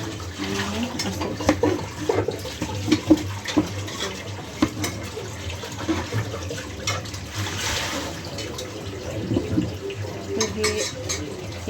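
Tap water runs steadily while ingredients for chicken pulav are rinsed in a kitchen sink, a continuous close splashing hiss broken by occasional clinks of utensils.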